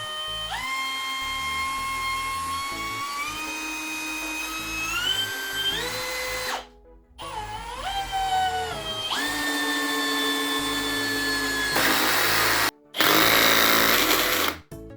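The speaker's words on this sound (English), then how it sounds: "generally you won't be driving a 77mm screw into hardwood" A Bosch Universal Impact 18V-60 drill drives a 77mm screw into solid beechwood hardwood, its motor whining loud and rising in pitch in long strained bursts with brief pauses between them.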